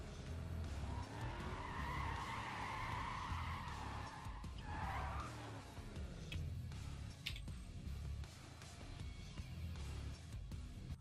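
BMW car driving and skidding in the video game Need for Speed World, with a loud continuous engine roar and drawn-out tire squeal, plus a few sharp ticks, with no talk.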